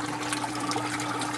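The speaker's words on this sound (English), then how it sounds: "There's my other bell siphon draining on one of my beds." A bell siphon in a wheeled aquaponics system drains water from a grow bed with a continuous close rushing, gurgling flow, steady throughout and without any talking.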